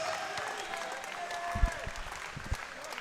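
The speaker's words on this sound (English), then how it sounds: "another round of applause for a hard-fought opening contest" Crowd at an MMA event applauding after a hard-fought opening bout, a steady spread of clapping in a large venue, with a voice and a few low thumps partway through.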